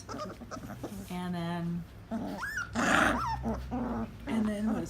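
A litter of young puppies, one loud little male growling and yapping in short bursts, close and clear, with a voice and other small whimpers around it.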